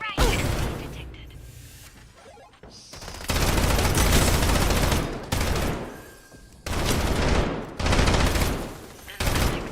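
Sustained bursts of automatic gunfire in the game Girls Frontline 2: Exilium, loud dense volleys starting and stopping in several long stretches, with brief gaps and crashing impacts between.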